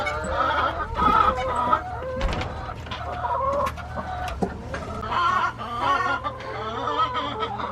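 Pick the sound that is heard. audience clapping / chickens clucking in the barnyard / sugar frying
chickens clucking in the barnyard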